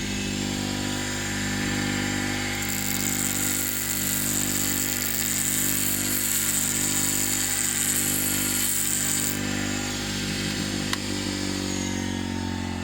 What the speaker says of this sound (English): with this chisel I've put it on a grinder